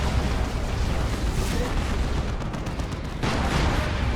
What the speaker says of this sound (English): That's another rocket run.